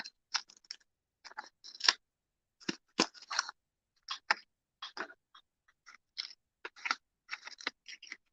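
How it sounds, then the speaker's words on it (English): Scissors hand-cutting printed die-cut labels, a long series of crisp, close snips coming in short irregular bursts with brief pauses between cuts. "And so these I'll just hand cut."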